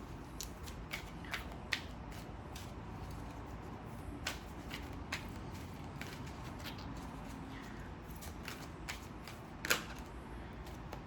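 Wisdom of Avalon oracle cards being shuffled by hand, a soft continuous papery riffling with scattered crisp clicks and snaps, quiet and close, no voices.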